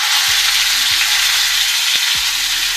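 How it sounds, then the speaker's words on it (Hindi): Tandoori chicken frying in an uncovered pan, a steady loud sizzle of hot oil throughout with a few low knocks as the pieces are turned. "देखिए हमारा चिकन अच्छी तरह से फ्राई हो चुका है"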